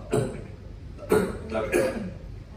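A person coughs three times in quick succession, short harsh bursts close to the listener in an indoor workshop setting, with a brief pause between each.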